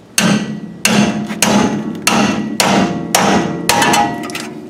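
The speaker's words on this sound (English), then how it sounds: "Big freaking hammer." Big hammer striking a front suspension part while installing springs on a Pontiac GTO/LeMans, six sharp, loud metallic blows spaced roughly evenly about half a second to a second apart, close up and with no talking.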